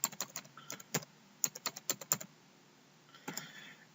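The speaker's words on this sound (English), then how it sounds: "I'm just going to type in a new password." Someone types a new password on a computer keyboard with quick, irregular keystroke clicks in two bursts separated by a short pause. The sound is close and fairly quiet.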